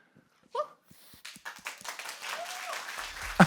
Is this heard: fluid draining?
no